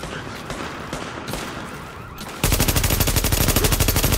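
Enemy gunfire in The Division's Dark Zone: scattered shots crackle at first, then a loud, rapid automatic burst erupts halfway through and keeps hammering in a fast, even rhythm to the end.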